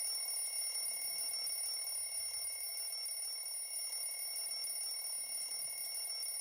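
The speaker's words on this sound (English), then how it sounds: "Turn off the alarm." An alarm clock rings inside a video game with a steady, continuous electronic tone that holds at an even level throughout, alone and without talking.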